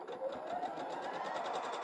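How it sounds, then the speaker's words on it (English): A sewing machine runs steadily for a couple of seconds, its fast, even stitching rattle continuous and close, with no voices. "we're going to bring it over to the sewing machine again and just sew this together"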